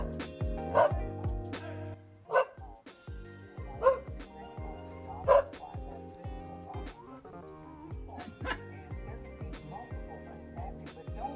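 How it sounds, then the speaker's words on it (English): Dogs barking intermittently with yips and whines, a few sharp louder barks standing out among softer ones, with people talking at the same time. "he probably hears the dogs barking and just barks too."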